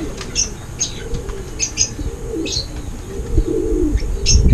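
Racing pigeons at a loft during derby training, with repeated bursts of wing flapping and soft cooing over a low rumbling background, moderately close, no talk.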